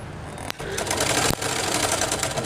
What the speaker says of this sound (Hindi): और उसके बाद हम सिलाई यहाँ स्टार्ट करेंगे